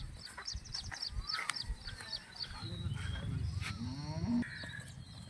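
A red-and-white patched HF cross cow moos in a low, drawn-out call partway through, set against a busy farmyard background of chirping birds and fowl, moderately distant and not loud.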